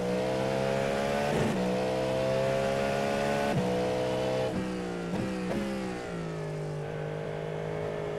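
LMP3 prototype race car engine at Sebring in iRacing, a steady high-pitched drone with several sharp upshifts that each drop the pitch briefly before it climbs again, loud and close.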